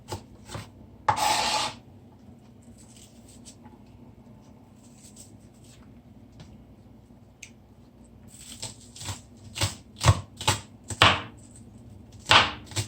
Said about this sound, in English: I'm chopping as fine as possible. Same thing with the scallion.